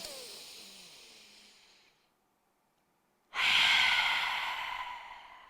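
Deep, controlled breathing during a core workout: a long, steady exhale fades to silence, then a strong, loud inhale follows, close and clear with no talking.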